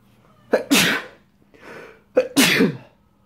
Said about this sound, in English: I'm coming down from a cold, I might sneeze.